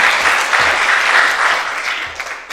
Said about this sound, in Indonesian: Tepuk tangan yang paling meriah bagi Tuhan.